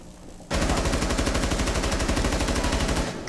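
Rainbow Six Siege automatic gunfire erupts suddenly after a quiet moment, a rapid, evenly spaced burst of shots that carries on loud and unbroken for nearly three seconds.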